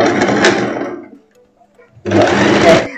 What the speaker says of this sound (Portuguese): aqui agora eu faço a costura